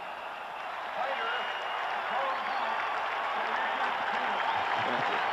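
A football stadium crowd at the 1991 Washington Redskins at Chicago Bears game swells into a broad, sustained roar after a sack, with a broadcast voice talking over it.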